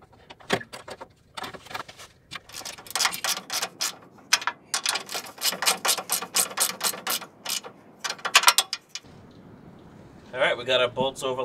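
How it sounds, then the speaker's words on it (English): A come-along ratchet winch is cranked to pull the bumper on a Jeep ZJ Grand Cherokee, giving close, loud, rapid clicking bursts of the pawl in uneven runs, pausing briefly between strokes. "while I'm heating and pulling on the come along, I'm gonna try to push this in with a pry bar"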